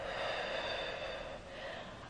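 A single breathy exhale during a yoga flow, soft and close with a hissing, airy quality that trails off.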